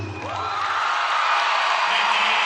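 An arena crowd at a college gymnastics meet between Alabama and Boise State cheers and whoops after a routine, a sustained roar of many voices holding steady throughout.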